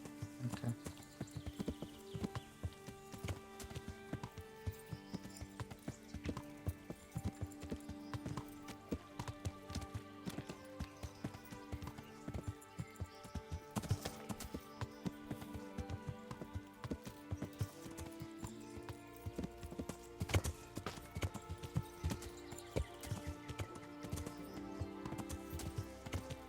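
Horse hooves clip-clop in a steady rhythm through the Kingdom Come video game, quiet and even over a faint bed of game ambience for the whole stretch.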